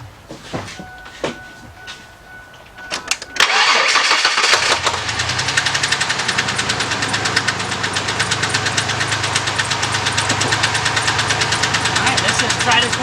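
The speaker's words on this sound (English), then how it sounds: "This thing is starting up." A 1998 Ford F150 pickup with the 4.2 engine cranks with several clicks and whirs, catches loudly, then settles into a rough, uneven idle with a steady pulsing beat from its misfires.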